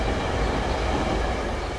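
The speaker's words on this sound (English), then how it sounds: "And the train is going by, as you can see." A SEPTA commuter train in Philadelphia rolls past nearby, a steady loud rumble of wheels and carriages with no break across the short stretch and no one speaking.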